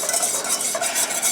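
A roux of flour cooks in a pan for a canned beef stroganoff, with a spoon scraping and stirring it. A soft, steady sizzle sits under the rhythmic stirring, close by and with no talk.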